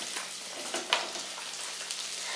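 Onions frying in a pan for a Kerala-style chicken roast and stirred until golden brown, giving a steady soft sizzle with a few sharper scraping ticks of the spoon and no speech.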